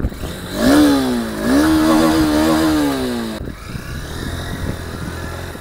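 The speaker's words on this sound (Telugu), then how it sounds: "First of all engine sound వినండి." A Honda NX200 motorcycle engine, a 2025 model, runs close by and revs up twice before settling, then drops back to a lower idle. Loud and alone, with no voices.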